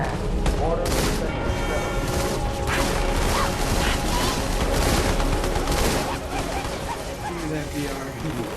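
Dense rapid bursts of dual SMG fire from Halo 2 run on without a break, mixed with crashes and game noise, while voices talk over the shooting.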